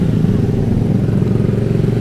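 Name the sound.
motorcycle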